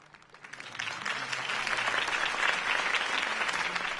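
Crowd applause in a Batman video game, breaking out after Harvey Dent's campaign speech, starting quietly and swelling into steady, dense clapping that holds to the end.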